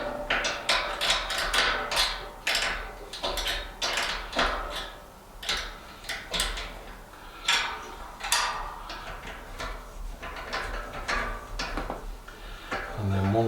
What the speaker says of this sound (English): So you effectively screw that one in to the threaded inserts.